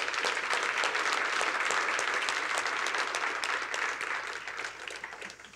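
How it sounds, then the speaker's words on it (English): A business breakfast audience gives applause welcoming new chamber members, a dense, sustained patter of many hands heard at moderate distance, tapering slightly toward the end. "Round of applause for our new members."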